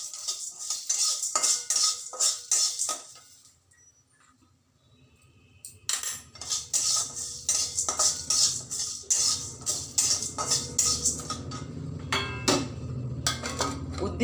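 Urad dal and chana dal roasting in a pan for mint chutney, heard as busy clattering and scraping of a spoon against metal with rapid clinks, pausing briefly midway before resuming over a low sizzle.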